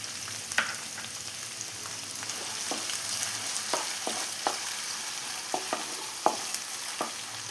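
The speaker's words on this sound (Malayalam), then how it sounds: "ഇനി ഇതിലേക്ക് 1 കപ്പ് സവോള ചോപ്പ് ചെയ്ത് വെച്ചതാണ്." A cup of finely chopped onion stir-fries in a pan for Schezwan egg fried rice: a constant hiss of hot oil punctuated by repeated short spatula scrapes and taps, close and clear, with no speech.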